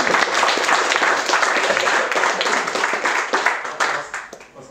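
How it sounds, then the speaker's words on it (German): Audience applause at the Vintage Computer Festival Europe in Munich, a dense, loud wash of many hands clapping that carries on steadily and then thins out toward the end, with no talk over it. "Aber erstmal Applaus für diese Erfolge."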